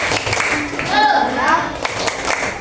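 Children in a classroom perform a rhythmic spirit clap, bursts of hand claps mixed with young voices chanting and talking throughout.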